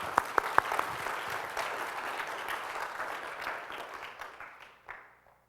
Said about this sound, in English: Let's have a round of applause for Ray for man.